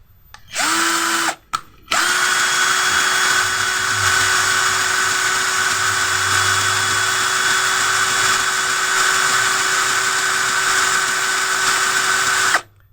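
Generic 12V cordless drill running at its first speed setting, a brief start and two quick stops, then a steady, loud, high whine held for about ten seconds before cutting off.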